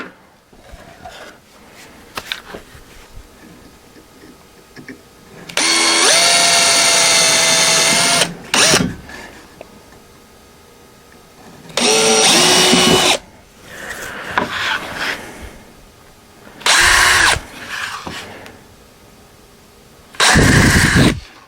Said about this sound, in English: Of course, these are going to have to be drilled here.